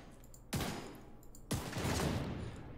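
Two sharp, loud pistol shots from the Regulus exotic pistol in The Division 2, spaced about a second apart, each with a hard crack and a booming tail over quiet game ambience.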